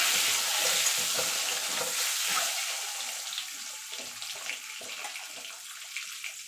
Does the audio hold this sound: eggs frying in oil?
yes